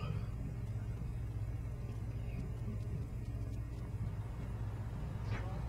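A car engine in the video game Saints Row The Third gives a low, steady rumbling hum. It is quiet and continuous, with faint game ambience and no talk.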